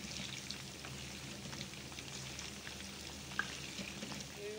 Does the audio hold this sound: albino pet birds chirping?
no